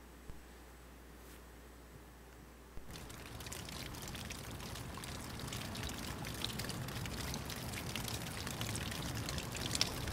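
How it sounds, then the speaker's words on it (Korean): Water droplets trickling and dripping at the Suwolbong coastal cliff on Jeju, starting quiet and then swelling into a dense, steady patter of many drops close by, with no voices. "물방울들이 떨어지는 소리"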